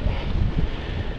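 Wind buffets a microphone on a mountain bike ride near Tromsø, Norway, producing a steady, close, low rumbling roar with no speech.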